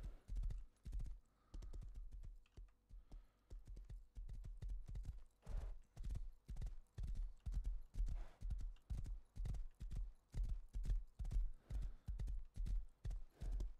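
Steady, even clip-clop of horse hooves walking in the game Red Dead Redemption 2, close and regular throughout with faint ambient background and no talk.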